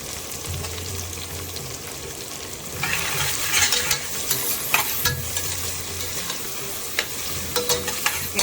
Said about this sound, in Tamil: இப்போ ஆனியன் போட்டு ஃப்ரை ஆன கொஞ்சம் ஆகிட்டுருக்கு.